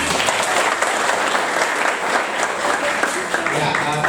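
An audience at a vocational school event in West Papua claps steadily, a dense, even applause filling the whole moment.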